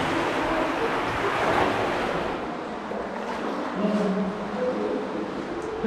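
Steady, loud rushing water of an underground river in a cave fills the space with a constant roar that never lets up.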